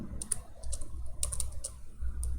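Fast, close typing on a computer keyboard while writing C++ code, with bursts of crisp key clicks separated by short pauses.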